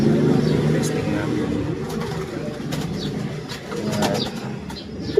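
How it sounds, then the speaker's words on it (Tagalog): Pigeons coo softly in low, throaty murmurs beneath a voice, with faint wing flutters and a distant car heard in the background. "yung update nga sa mga kalapati natin"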